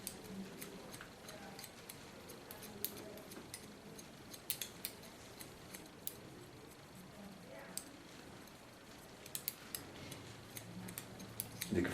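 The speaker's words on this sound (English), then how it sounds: "Try to cut it in a rhythm. I love to cut in rhythms." Scissors snip through platinum blonde hair during a pixie cut, faint quick clicks repeating in a loose steady rhythm over a quiet room background.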